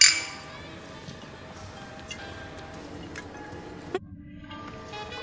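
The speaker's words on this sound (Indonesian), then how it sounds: "Murid bersulang lagi untuk guru." Beer glasses clink together in a toast at a drinking session, a bright ringing tap right at the start followed by faint scattered ticks and a second small clink, with a low background hum.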